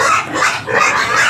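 A sow and her piglets on a farm grunt and squeal, close and loud, in short overlapping bursts over about a second and a half.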